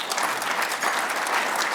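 Steady applause from an audience at a political town-hall style talk, dense clapping sustained throughout at moderate loudness with no voices over it.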